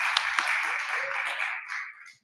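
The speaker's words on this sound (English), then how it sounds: "so a big round of applause" An audience applauds candidates at a Feilding General Ward election event held by Manawatu District Council, a dense, even clapping at moderate distance that thins out and fades toward the end.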